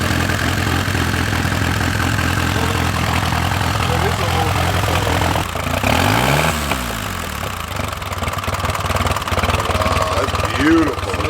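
A 1917 Henderson motorcycle engine with exposed parts is cranked with a weak kicker and settles into a steady, loud, close idle with a low throbbing rumble, while voices talk in the background.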